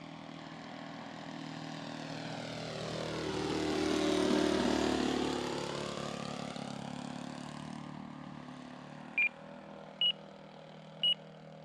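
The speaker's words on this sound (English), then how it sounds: "let you guys hear a couple flybys" A Hangar 9 J3 Cub model airplane's small propeller engine whines in from afar, swells loudly as it passes overhead, then fades away, followed by three short electronic beeps.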